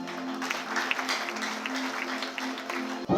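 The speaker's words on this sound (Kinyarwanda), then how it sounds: "reka tumukomere amashyi" Wedding guests clap for the groom during the ceremony, a moderately quiet patter of many hands over a steady sustained tone, continuing until a sudden thump near the end.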